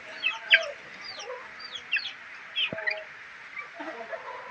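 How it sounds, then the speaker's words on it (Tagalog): Small chicks that were given medicine peep in short, high, scattered calls, several birds overlapping over quiet background hiss, with one lower cluck partway through. "Yan po ang ating mga alagang sisiw na ating ginamot."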